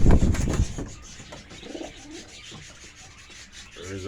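Pigeons gathered for a bird toss on a rainy, cloudy day, with a burst of wing flapping and rustling up close at the start, then softer shuffling and faint cooing calls.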